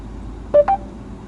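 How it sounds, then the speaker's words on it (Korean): A Mercedes-Benz EQA 250 in-car voice assistant placing a phone call, heard as two quick electronic tones in succession, fairly loud inside a quiet cabin. "오종훈에게 전화"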